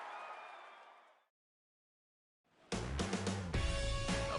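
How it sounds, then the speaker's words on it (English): A stadium crowd in a baseball video game, set at Seattle's Safeco Field, erupts into loud, sustained cheering and applause after a short tone and a brief silence. "the Giants, once again, win a game in a very unusual way as this crowd goes crazy"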